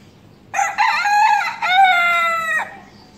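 A rooster crows once, loud and close, a strained drawn-out call lasting about two seconds, with quiet before and after.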